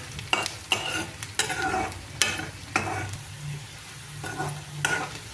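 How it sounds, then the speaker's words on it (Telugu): Onions frying in a pan with turmeric for a bottle gourd curry, a soft sizzle under several sharp scraping stirs of a spatula at irregular intervals. "కొంచెం పసుపు కూడా వేసుకొని ఆనియన్ని ఫ్రై చేయండి"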